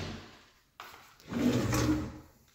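A kitchen drawer in an empty house slides and bumps, a brief knock followed by a longer rolling scrape, close and moderately loud, with no speech.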